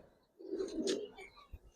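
Giribaz and coloring pigeons on a rooftop give one soft, low coo, faint and close, with a brief rustle just after.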